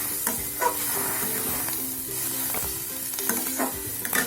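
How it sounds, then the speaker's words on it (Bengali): Water hits a hot pan of frying eggplant and spinach for a village-style bori curry, raising a loud, steady hiss and sizzle close by, with a few faint utensil knocks underneath. "এবার আমরা একটু জল দিয়ে দেবো।"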